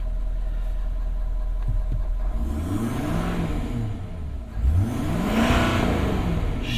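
A 2017 Ford F-250 Super Duty 4x4 with a 6.7-liter Power Stroke diesel idles with a low rumble, then revs up and down in repeated swells, the rising and falling engine pitch loud and close with no talking.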